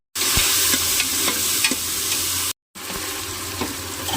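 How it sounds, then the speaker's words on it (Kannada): Chopped mint, coriander and fenugreek leaves frying in a pan, a loud, close, continuous hiss with soft stirring scrapes, broken by one brief silent gap before resuming. "ಅದರ ನಂತರ ಹೆಚ್ಚಿದ ಪುದೀನ, ಕೊತ್ತಂಬರಿ, ಮೆಂತೆ ಹಾಕೊಂಡು ಸ್ವಲ್ಪ ಫ್ರೈ ಮಾಡೋಣ"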